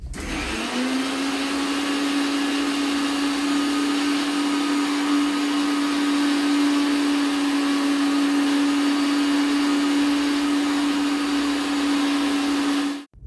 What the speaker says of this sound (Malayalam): തൈരും കൂടെ ചേർത്തിട്ട് നമുക്കിത് മോരിന് അരയ്ക്കുന്ന പോലെ തന്നെ അരച്ചെടുക്കാം